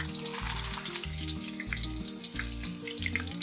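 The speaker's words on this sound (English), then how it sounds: "that grease is popping over on my bare leg" Chicken fried steak frying in hot grease, a dense, constant sizzle close up with scattered sharp pops and crackles throughout, over a low hum, with no voices.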